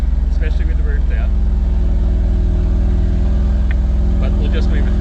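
A Ford Mustang engine idles steadily with a low, throbbing rumble throughout, with faint talk in the background.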